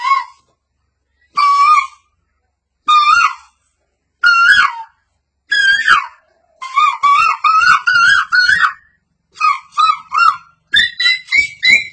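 A human voice imitates roosters crowing back and forth at dawn, with a series of loud, close cock-a-doodle-doo calls separated by short pauses, quickening into overlapping bursts toward the end.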